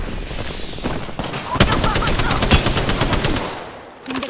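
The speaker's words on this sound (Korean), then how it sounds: "지금 적을 향해 사격한다." Rapid automatic gunfire in the battle royale video game Apex Legends, a loud close burst of evenly spaced shots in the middle that fades out, with a fresh sound starting at the end.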